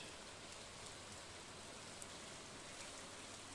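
Steady rain falling in the farming game Stardew Valley, a soft continuous hiss of drops spread evenly throughout with no talk.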